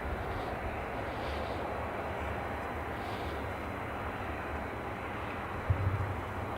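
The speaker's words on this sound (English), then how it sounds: "so the Loganair ATR 42 was off to Exeter" A Loganair ATR 42 turboprop airliner departs Edinburgh Airport, heard as a steady, distant engine roar holding a constant level throughout, with no talking.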